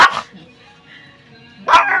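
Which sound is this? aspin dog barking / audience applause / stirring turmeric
aspin dog barking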